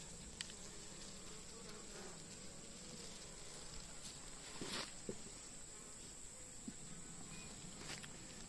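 Agitated honey bees buzz steadily around an opened hive during an overcast-day inspection, a dense continuous drone with occasional closer passes and faint handling clicks, no talking.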